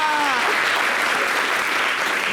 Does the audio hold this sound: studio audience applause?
yes